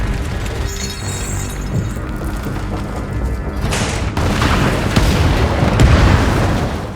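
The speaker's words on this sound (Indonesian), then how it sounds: "berusaha menyelamatkan Haris, langsung memerintahkan anak buahnya untuk meledakkan tempat itu dan pergi dari sana" A building is blown up in an action film scene, with a loud booming blast and shattering debris that swell into a sustained roaring rumble.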